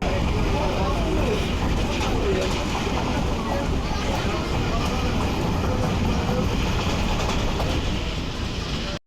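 An air-conditioned local train rushes along at speed, a loud continuous roar with rattling wheels and carriage clatter, people talking faintly inside.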